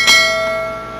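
A single bright notification-style bell chime rings out once near the start, its metallic tone ringing on and slowly decaying through the rest of the second, alone with no talk.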